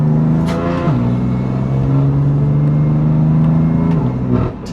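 A 2018 BMW M3 CS engine heard from inside the cabin, a loud, steady drone with a strong low tone that briefly steps up in pitch near the start and again near the end, fading at the close.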